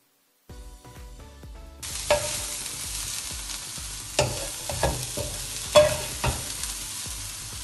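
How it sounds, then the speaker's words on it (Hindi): Vegetables including carrots sizzle in a pan for chicken egg rolls, a close, steady frying hiss with repeated clattering stirs and scrapes of a utensil against the pan. "इन सारी सब्जियों को आपने फ्राई कर लेना है"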